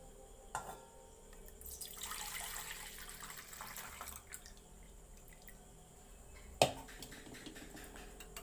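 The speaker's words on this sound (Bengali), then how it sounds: "এবার আমি দুধটা এর মধ্যে ঢেলে দিচ্ছি" Milk poured into a bowl of curd for homemade yogurt gives a soft, steady liquid trickle and splash, with a sharper knock of the vessel near the start and another near the end.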